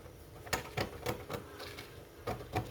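Scissors cut out a fabric corset yoke, giving a handful of crisp, close snips at irregular intervals over a faint room background.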